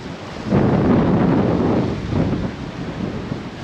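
Strong wind roars loudly and steadily into the microphone on a boat trip through Friesland near Heeg in June, buffeting in gusts with no talk.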